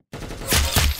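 Gunfire in a first-person shooting video game, a loud burst of rapid shots followed by a second heavy burst, close and punchy with no talk over it.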